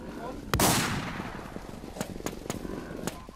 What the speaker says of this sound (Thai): ใครยิงฮันนี่วะโดนโดน